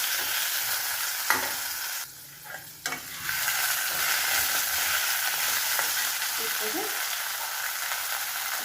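Spices and turmeric fry in hot oil for a Bengali fish curry, a continuous near sizzle with scattered stirring clicks that briefly dips quieter before resuming.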